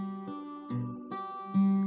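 Acoustic guitar plays a five-string fingerpicking pattern at a quick tempo, with four distinct plucked attacks ringing into each other, close and clear with no voices.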